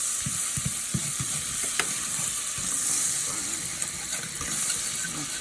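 Butter sizzles in a pan while a utensil scrapes and stirs the bottom during cooking of turkey tenderloin, a steady close frying hiss with a few scraping knocks.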